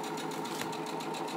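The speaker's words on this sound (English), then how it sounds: "When I sew, the machine starts flopping all over the place." A sewing machine stitching a fabric face mask runs in one short, close, steady whirring burst with a faint rhythmic pulse and no voice over it.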